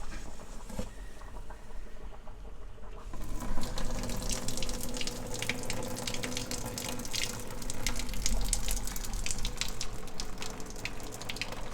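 Water runs from a kitchen tap into a large soup pot for a vegetable and beef soup, a steady close splashing stream that grows fuller and more pattering as the flow strengthens.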